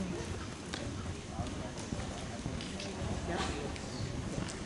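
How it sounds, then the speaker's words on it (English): Rhythmic hoofbeats of horses cantering on soft ground in a riding arena, steady and somewhat distant, under a constant outdoor rumble. "Canter your horses, please."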